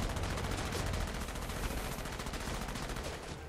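Rapid automatic gunfire from the video game Enslaved: Odyssey to the West, a dense continuous burst of loud shots with a slight fade near the end.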